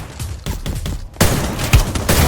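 Video game gunfire crackles in a competitive shooter match: scattered shots at first, then a dense, loud fusillade of rapid overlapping rounds.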